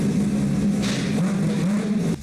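A four-rotor rotary engine, made from two 13B engines joined together, sits idling in a drift car. The idle is a loud, steady, throbbing burble that runs unbroken for about two seconds and then drops off near the end.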